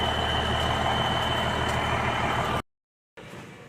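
A vehicle engine runs loudly and steadily up close, a dense rumbling drone that cuts out abruptly near the end, falls silent briefly, then resumes.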